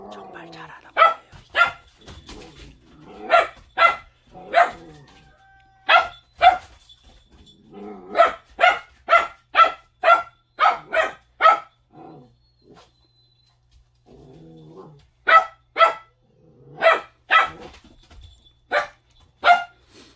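A three-month-old puppy hunting dog barks repeatedly while herding chickens, sharp close barks in quick bursts with a brief pause mid-way, then another run of barking.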